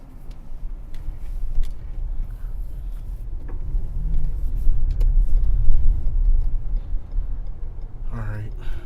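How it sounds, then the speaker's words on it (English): Rush hour road traffic heard from inside a moving car, a steady low rumble of engines and tyres that swells gradually and then eases, with a voice speaking briefly near the end. "Ooh, rush hour traffic."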